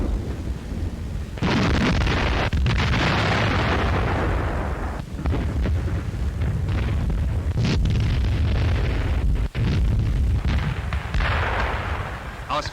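Artillery fire in a German WWII newsreel from 1941: a dense, loud barrage of booms and blasts on the Eastern Front advance, thundering continuously with sharp cracks through a grainy old recording.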